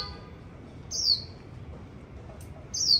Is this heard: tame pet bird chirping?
yes